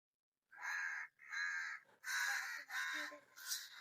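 Crows cawing outdoors: five loud, harsh caws in quick succession, each lasting about half a second, with short gaps between them.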